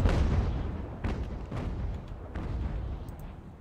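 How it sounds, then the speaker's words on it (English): Ships firing canister shot from their cannons in the Ultimate Admiral Age of Sail naval battle game, several deep booms rolling one after another with rumbling tails, loud at the start and fading slightly. "I'm going to go ahead and put canister fire on"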